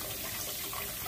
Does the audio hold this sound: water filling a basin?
yes